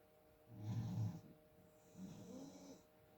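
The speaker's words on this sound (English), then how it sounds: "If you can hear the dog snoring" A dog snores softly nearby, two slow wheezy breaths with a rumbling inhale, quiet and alone.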